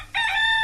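A cockerel crowing sound effect plays on a radio show, a loud, close, sustained crow that starts abruptly and carries on without talk over it.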